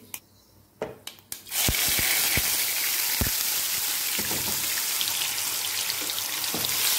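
Ground garlic spice paste hits hot oil with mustard seeds and cumin: a few sharp crackles and pops, then a loud, continuous sizzle, close by, still scattered with popping bursts.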